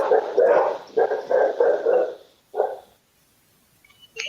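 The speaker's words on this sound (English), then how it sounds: "Sorry, dogs went nuts." Dogs barking in a rapid run of loud, close barks, then a short pause and one more bark before quiet.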